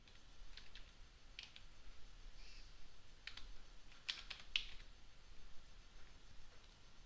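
Keys on a computer keyboard are pressed in a Linux terminal to exit and save a file, giving a few soft, scattered clicks and short bursts of taps over a quiet background.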